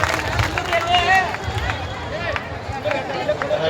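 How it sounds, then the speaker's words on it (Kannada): Loud clapping from the crowd at a village religious discourse gathering, a dense patter of hands mixed with murmuring voices and babble throughout. "ಆ ಗೌಡಪ್ಪ ಗೌಡರಿಗೆ ಒಂದು ಜೋರಾದ ಚಪ್ಪಾಳೆಯನ್ನು ನಾವು ನೀವು ಸಲ್ಲಿಸೋದು"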